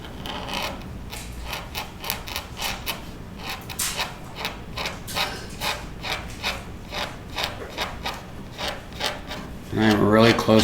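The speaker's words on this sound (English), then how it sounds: "This cardboard does not scrape very well" A piece of cardboard is scraped over a cured resin pour in a series of close, rhythmic rasping strokes. A louder, harsher scrape comes at the end.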